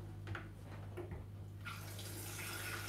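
Tap water runs into a kettle being filled for boiling, a faint steady stream that grows brighter and fuller partway through over a low background hum.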